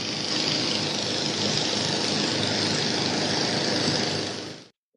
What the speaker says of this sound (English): Craftsman mowers and only Craftsman mowers are powered by the exclusive Eager 1 engine.